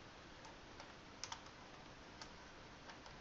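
Soft clicks of typing on a computer keyboard, a few sparse keystrokes over a faint hiss, quiet and close.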